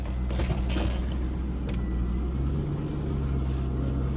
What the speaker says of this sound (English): we'll take the Corvette for a cruise